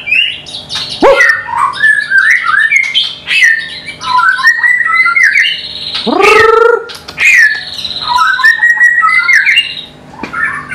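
A white-rumped shama sings loudly and close by, pouring out varied whistles, rapid chattering phrases and sharp squawks, with short pauses between bursts.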